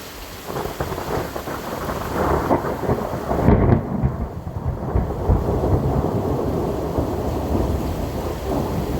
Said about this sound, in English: thunder and lightning storm we had in early August